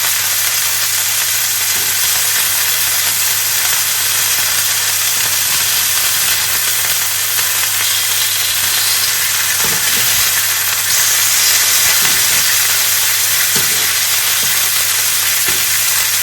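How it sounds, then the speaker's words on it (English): Pork tenderloin pieces browning in a hot pan, a loud, dense, unbroken sizzle throughout with a few faint clicks of a utensil, no talking. "I'm just browning them off."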